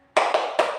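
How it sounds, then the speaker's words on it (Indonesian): A group claps together in a quick rhythm: three sharp, loud claps in under a second. "Kita tepuk semangat aja ya."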